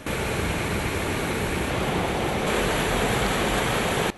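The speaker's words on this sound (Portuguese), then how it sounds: "Essa é a Cachoeira da Lembrada, uma vista deslumbrante criada pelo rio Poti" Cachoeira da Lembrada, a waterfall on the Poti river in a canyon in Brazil, gives a dense, constant roar of falling water, loud and steady throughout with no other sounds.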